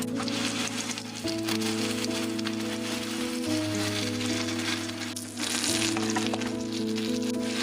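Hmong sausage patties sizzle loudly and steadily in a hot skillet, a dense continuous crackle over a constant hum, with no talking.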